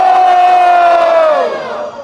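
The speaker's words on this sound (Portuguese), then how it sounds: "barulho pra quem gostou das rimas de Yonki" A loud crowd at a Brazilian drill and Detroit rap battle semifinal roars and cheers in a dense, sustained wave for about two seconds, then the noise begins to fade. No speech is heard.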